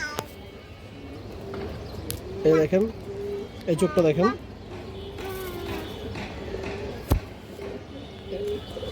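Ring-eyed pigeons from an old bloodline give two short bursts of throaty cooing, close by, while someone talks over a steady background hum.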